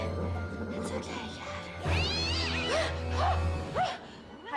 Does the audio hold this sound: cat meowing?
yes